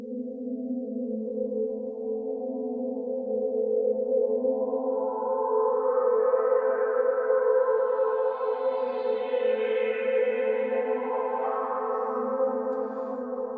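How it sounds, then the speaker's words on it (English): A sustained synth pad holds one steady chord, its tone slowly brightening and then mellowing, smooth and continuous with no voices. "Next we got this pad that sounds like this."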